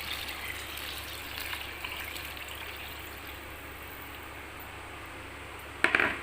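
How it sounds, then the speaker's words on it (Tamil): Water is poured from a tumbler into a pot of rice and lentils for cooking, a soft steady gush that runs quietly throughout, ending with a brief louder splash near the end. "6 டம்ளர் தண்ணி ஊற்றிக்கலாம்."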